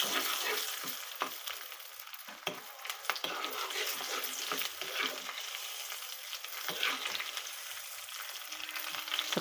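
Garlic frying in a pan while being stirred, a steady crackling sizzle broken by scraping strokes of the spoon and a few sharp clicks, with no talking.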